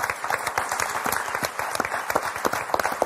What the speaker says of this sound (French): ce sera pour Doris et François qu'on va applaudir très très fort. Bravo!